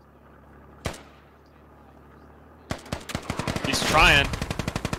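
DShK .50 caliber heavy machine gun firing in the Squad video game, starting with one isolated shot and then a dense, rising burst of rapid heavy rounds. A voice briefly speaks between the shots.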